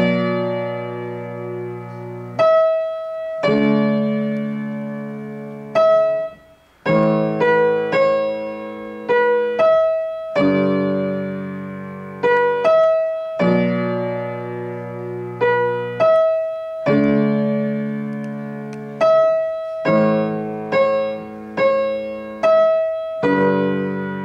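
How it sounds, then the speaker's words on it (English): A piano plays the chords of a song with both hands together, sounding short repeated stabs and held chords in a steady, punchy rhythm, loud and alone. "So together, it should all sound like this."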